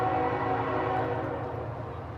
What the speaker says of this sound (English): the train's coming, so I gotta let it go by here